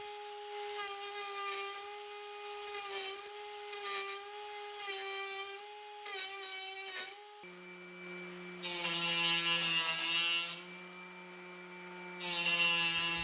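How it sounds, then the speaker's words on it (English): A Dremel 8260 smart rotary tool with a cutting wheel slices through a steel screw, its high-pitched whine rising in a series of loud grinding bursts, then dropping to a lower motor pitch for two longer cuts. "I set the speed for the wheel, and then I went ahead and cut the steel screw"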